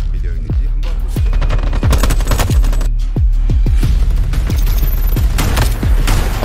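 A barrage of close, loud gunfire from the shooter Veiled Experts, with dozens of sharp reports in quick bursts and single shots that run continuously with no pauses.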